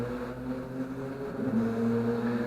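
A motor vehicle, a passing car or motorcycle, drones steadily at a distance beside a rocky work site on Madeira, its low humming tone swelling slightly toward the end with no one speaking.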